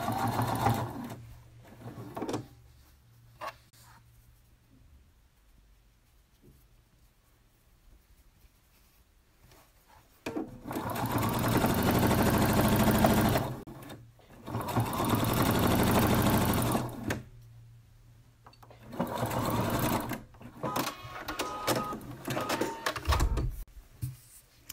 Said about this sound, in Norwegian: Nå har jeg byttet til enkel nål med symaskinen